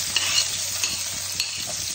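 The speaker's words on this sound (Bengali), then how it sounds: "এবার আমি অল্প যে পেঁয়াজ কুচিয়ে রেখেছি সেটা আমি ছেড়ে দেব।" Chopped onion hits hot oil with cumin seeds for a Boroli fish curry, giving a steady close sizzle with a few brief stirring scrapes over the frying hiss.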